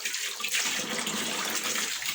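Hot water poured over salted fish (fesikh) in a kitchen, a steady close splashing rush of running water lasting throughout, without talk.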